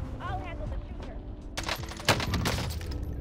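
Sniper gunfire in a Caldera video game match, sharp cracks and a quick burst of shots following a stretch of talk, with voices chattering over the action.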